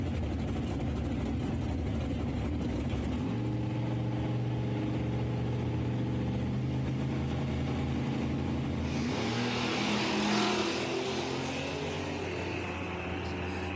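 A Fox body and an S10 race at Shadyside Dragway, engines droning loudly, then shifting to a deeper roar before a harsh burst of noise as they pull away, with no speech.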